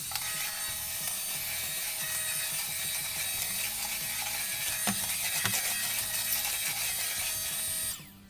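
A SwitchBot K10+ Pro robot vacuum's small motor whirs steadily with rattling, clicking debris being swept up from a hard floor, a few sharper clatters near the end before it cuts off.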